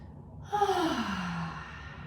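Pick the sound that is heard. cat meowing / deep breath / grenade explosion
deep breath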